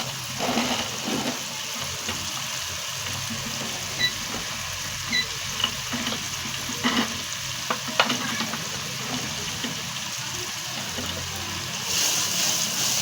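Salt, chili and spice masala fry in a pan for turnip and pea sabzi, giving a continuous close sizzle with occasional stirring scrapes and taps, and no talking.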